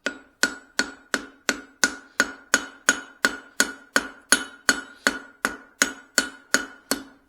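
A hammer forges a Swedish style cross peen on an anvil with light, even blows. Roughly twenty ringing metallic strikes come in a steady rhythm, close and clear, with no talk.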